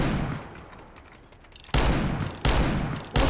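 Revolver shots in Counter-Strike 2 ring out as three sharp, loud blasts spaced under a second apart, each followed by a decaying tail after a quieter opening.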